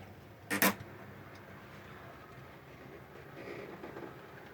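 A model locomotive on an original Hornby Triang chassis with a new wheel set runs quietly and steadily, with a faint continuous hum and light rolling clicks after one brief sharp knock.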